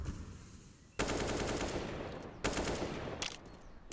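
Rattling automatic gunfire in a competitive Counter-Strike-style esports match, two sustained bursts starting abruptly and running near and loud with dense rapid shots, no talk over them.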